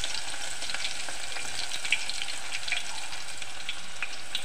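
Onions sizzle and fry steadily in a pan for anchaya curry, a dense continuous crackle with faint scattered pops, no voices over it.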